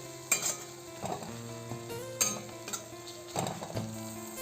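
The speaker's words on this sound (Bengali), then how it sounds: "এবার আমি টমেটো কুচি দিয়ে দেবো নাড়াচাড়া করে নেবো একসাথে এটাকেও" Spices and chopped tomato are stirred in a pan with a spoon, giving a few distinct scraping clinks roughly every second over a faint, steady sizzle. No one speaks.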